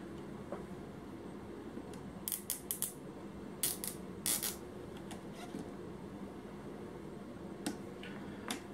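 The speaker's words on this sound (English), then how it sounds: "go ahead and zip tie this on, and the sensor will sit on the motor correctly" Zip tie ratcheted tight around a telemetry sensor on the motor of a Traxxas Slash 2WD VXL RC truck, several quick close clicking bursts with quiet pauses between.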